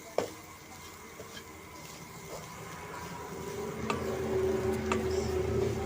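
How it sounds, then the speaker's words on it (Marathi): Modak filling mixture with cashews and almonds stirred in a pan, soft scraping and light sizzle growing slightly louder, a few sharp clinks of the spoon, no voices. "त्याच्यामध्ये हे काजू बदाम टाकायचे आणि मिक्स करून घ्यायचं"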